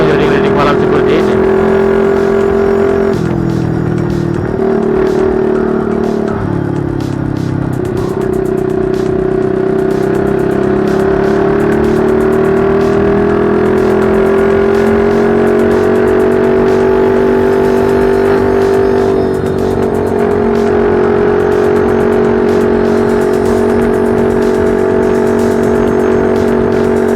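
A motorcycle engine and exhaust roar steadily and loudly on a late-night ride through the city of Ambon, with the pitch rising and falling as the rider shifts and changes throttle.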